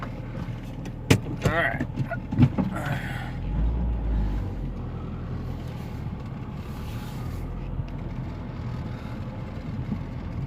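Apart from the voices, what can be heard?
2002 Saturn SL1 car running and driving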